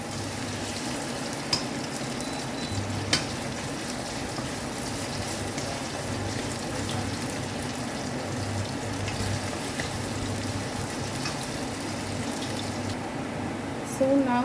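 Ginger sautéing in a pan, a continuous even sizzle with a few light clicks of stirring, steady and close throughout.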